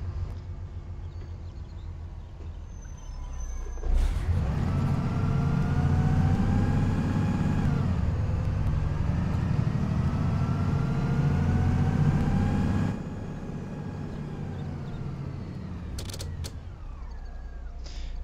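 A modded bus engine in a bus simulator game, a Solaris bus: a steady low drone with creaking and mechanical whine swells louder for several seconds, then drops back to a quieter idle hum, with short clicks at the edges.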